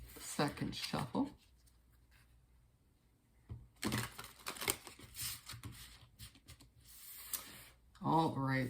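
Tarot cards are shuffled by hand nearby, producing a brief flutter, then a quiet gap followed by a longer run of papery riffling and tapping, with a voice at the end.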